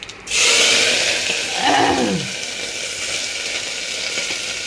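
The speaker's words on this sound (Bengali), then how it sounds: "দেখো কুকারে তেল দিয়ে দিয়েছি, জিরে ফোড়ন দিয়েছি, আর ব্রকলি, গাজর, আলু, মটর দিয়ে একটা রেসিপি।" Broccoli, carrot, potato and peas frying in oil with cumin in a pressure cooker, a loud close sizzle that swells as the vegetables hit the oil, then settles into a steady hiss.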